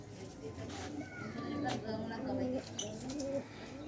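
Soft pigeon coos from a pet green pigeon in a home setting, a few low murmuring calls mixed with faint chirps under ongoing background talk and household noise.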